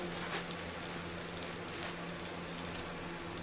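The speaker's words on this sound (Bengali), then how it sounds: "আলুগুলোকে ভালো করে নেড়ে ভেজে নেব" Potatoes frying in oil in a pan with cumin paste, cumin seeds and bay leaf, a steady soft sizzle with faint stirring scrapes, close and continuous with no voices.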